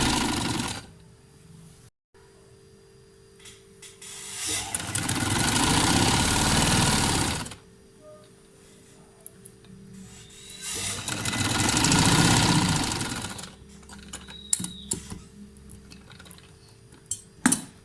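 Sewing machine stitches capri trousers in two sustained bursts of rapid, whirring, motor-driven stitching of about three seconds each, separated by quieter pauses with a low hum and a few handling clicks.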